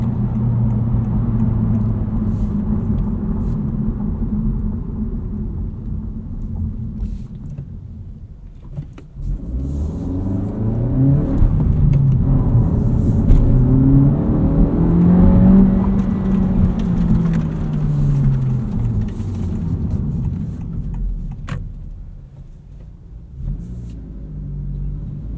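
A 2025 Honda Civic Si driving on the road, a steady engine drone and tire rumble throughout, swelling as the engine revs up mid-run and easing back later, with no talking.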